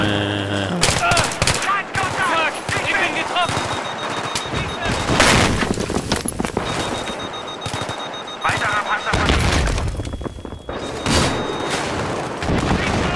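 Rapid automatic gunfire and heavy bursts in the video game Battlefield 3, loud, dense volleys with a few booming shots, while someone talks over the battle.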